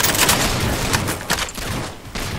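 An enemy player's gunfire in Halo 4 Big Team Infinity Slayer on Ragnarok, with loud, dense bursts of rapid shots and brief gaps between them, close and unbroken by talk.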